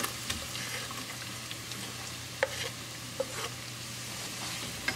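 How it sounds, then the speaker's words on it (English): Chopped onion sautéing in a pan over a medium gas flame for chana dal, a steady soft sizzle with a low hum and a few sharp spatula clicks and stirring scrapes, no talking. "Saute onion on medium gas."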